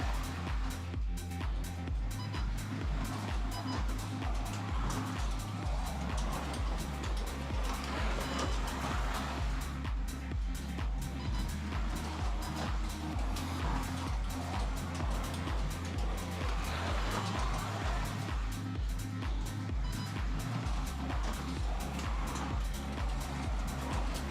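A KTM stock Carrera Digital 132 slot car lapping a freshly cleaned Dragons Tail track gives a loud, close, continuous electric whirr that swells and fades in a steady rhythm with each lap, with no voices over it.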